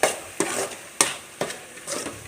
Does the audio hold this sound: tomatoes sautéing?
yes